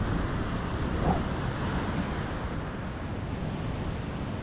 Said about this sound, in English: waves are starting to come over the top now